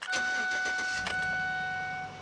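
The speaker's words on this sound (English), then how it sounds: "And then we'll start up the engine and see what we get." A Chevy truck's engine (Tahoe, Suburban or Silverado type) starts up after an oil pressure sensor replacement: a short crank catches into a loud, steady running roar close by.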